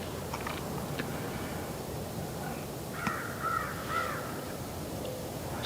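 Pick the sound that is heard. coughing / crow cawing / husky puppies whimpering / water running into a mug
crow cawing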